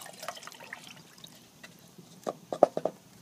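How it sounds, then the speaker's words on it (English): Two cups of water poured into a Musa pot for camp coffee outdoors: faint trickling and splashing that builds into a few brief, louder splashes near the end. "Throw 2 cups of water in there."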